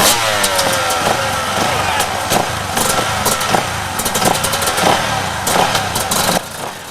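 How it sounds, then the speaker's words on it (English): Kawasaki and Yamaha enduro motorcycles revving together at a race start in a forest, a loud, busy roar of several engines with sharp throttle bursts, mixed with crowd noise and speech. "David Knight on the Yamaha, Rob Rayford like Fast Eddy on a Kawasaki."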